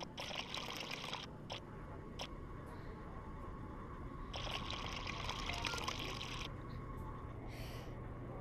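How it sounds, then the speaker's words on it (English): Liquid poured into a cup in the Job Simulator chef game, a steady trickling pour heard in two bursts with short gaps over faint background noise. "Pour it out into a cup and then we can serve it."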